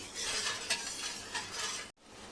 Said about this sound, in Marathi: पाणी टाकल्यानंतर थोडंसं ढवळून घ्यायचं आहे